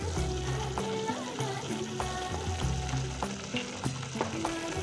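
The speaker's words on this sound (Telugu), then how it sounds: "దీంట్లో పచ్చివాసన పోయేంత వరకు కూడా మనం వేయించుకోవాలి." Curry leaves fry in hot oil for an Andhra-style fish curry, with a loud, constant sizzle and crackle throughout, close up.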